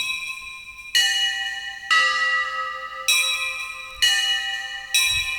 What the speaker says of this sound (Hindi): ये जैसे जिस स्वर से आप बजा रहे हैं उसी स्वर पे शंख और घंटा आ जाएगा